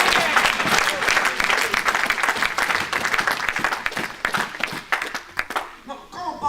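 A church congregation claps and applauds loudly and continuously, with crowd noise mixed in, thinning out toward the end.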